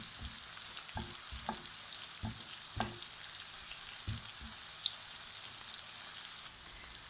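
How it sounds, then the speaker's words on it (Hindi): Onions fry in hot oil with a faint, even hiss of sizzling throughout. A few soft knocks of a spoon against the pan stand out in the first half, and the whole thing is quiet and steady, with no voices. "ऑयल को अच्छी तरह गरम करने के बाद इसमें हम प्याज को डाल देंगे और इसको अच्छी तरह से मिक्स कर लेंगे।"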